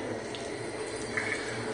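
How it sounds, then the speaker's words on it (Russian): Water runs steadily from the tap into a small baby bathtub in a new apartment, a continuous close splashing rush that holds level for the whole stretch, with no voices over it. "Покажи, как красиво у нас льется ванночка."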